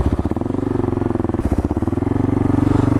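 Suzuki DR650 dual-sport motorcycle engine pulling hard through a wheelie, a loud, close, steady thumping single-cylinder drone with a brief dip before the revs climb again, no talking.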